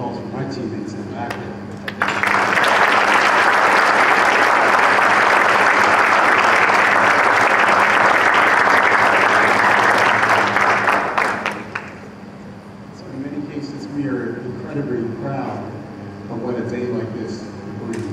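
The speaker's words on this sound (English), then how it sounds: "Ladies and gentlemen, please round of applause for my teammates in the back." An audience at a Marine Corps birthday ball breaks into loud, sustained applause that lasts about ten seconds, then fades into scattered claps and murmuring in a large hall.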